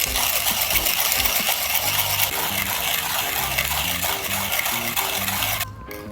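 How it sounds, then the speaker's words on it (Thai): A Wacaco Exagrind hand coffee grinder crunching beans for espresso, a steady loud gritty grinding with a repeating rhythmic crank pattern that continues for several seconds before stopping abruptly near the end. "เดี๋ยวเราจะลองบดเป็นเอสเปรสโซ่ดูนะครับ"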